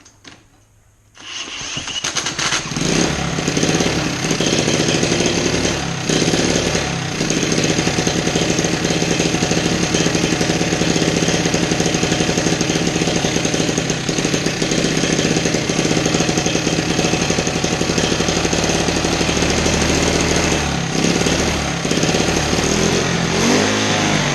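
A 1972 Honda CT70H small motorcycle engine catches after a brief start attempt, then runs loudly and steadily with a rough, rapid, clattering beat close by for over twenty seconds, alone without talk.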